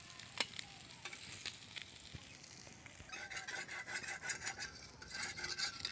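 Pieces of tilapia fish fry in oil, crisp to a reddish colour, and are lifted out, with a soft, steady sizzle up close, scattered metal scrapes and clinks, and a brighter, busier crackle in the later seconds.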